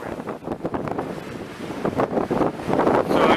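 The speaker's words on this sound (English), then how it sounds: "right into that north wind" Strong north wind buffets a small solar electric catamaran on open water near Hay Bay, producing a loud, steady roar of wind noise on the microphone that swells and gusts and mixes with waves and water slapping the hull, with no talk.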